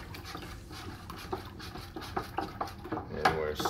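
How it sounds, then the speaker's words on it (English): A spoon stirs honey inside a one-gallon glass carboy for raspberry mead, giving soft, irregular scraping and sloshing close by, growing a little louder toward the end. "And we're stirring."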